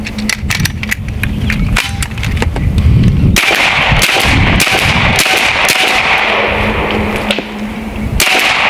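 Shots from a Bin Tac S45 PCP air rifle fed by a high-capacity magazine, a series of sharp, loud cracks in quick succession close by, with no talking.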